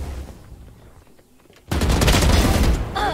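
Rapid, loud automatic gunfire erupts in Valorant after a quieter stretch and continues as a dense, sustained burst up close.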